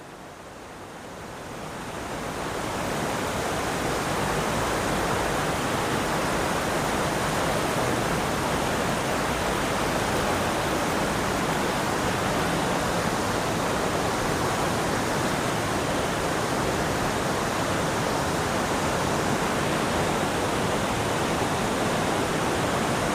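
Steady, loud rushing of a river flowing through a dark, cavernous cave, a broadband roar that swells in over the first few seconds and then holds constant, close and enveloping with no voices.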